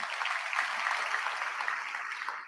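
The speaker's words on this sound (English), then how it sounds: "Let's give Cole a big round of applause." Audience applause at a Forty Under 40 awards event, a dense, steady wash of many hands clapping that holds evenly for the whole stretch and fades slightly at the end.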